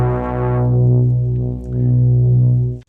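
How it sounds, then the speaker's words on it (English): A dark, warm bass tone from a Korg ARP2600 M semi-modular synthesizer, a single loud sustained note with a gentle swell and slight wobble in volume, heard alone before ending abruptly. "we've got this nice, dark, kind of warm bass sound"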